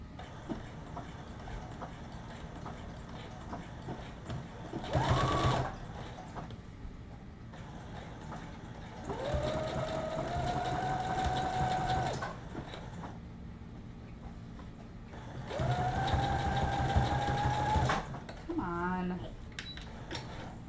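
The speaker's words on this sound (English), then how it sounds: "I'll just do an overlock, and then it will be lovely." An overlock sewing machine stitches a dress in two sustained whirring runs with a steady motor whine, separated by quieter pauses and a short burst near the start.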